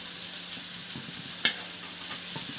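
Beans and carrots frying in a pan for veg noodles, an even close sizzle with one sharp spatula knock and faint occasional stirring scrapes.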